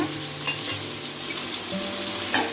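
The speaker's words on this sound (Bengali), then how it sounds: "এই যে ডিমটা হালকা ভেজে নিয়েছি বেশি লাল করব না" Eggs fry lightly in a pan for an egg korma, giving a steady, soft sizzle with a few brief stirring scrapes, close and continuous without speech.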